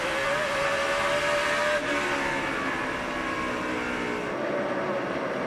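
NASCAR stock cars at full throttle during the 2005 Sharpie 500 at night, a loud continuous engine roar with a sustained high whine that shifts slightly in pitch, dense and steady throughout.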